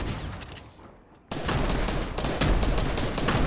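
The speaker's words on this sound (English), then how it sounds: "Spam grenades out." Grenades exploding in a Fortnite match: a low, quiet stretch gives way after about a second to a sudden loud burst, followed by a dense, continuous barrage of blasts and crackling gunfire-like bangs.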